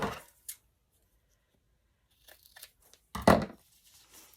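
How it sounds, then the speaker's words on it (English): Scissors snipping a book page paper into a tag shape, a few close, crisp cuts and paper rustles separated by quiet pauses, with one louder crinkling snip near the end. "So I'm going to cut this into a tag shape"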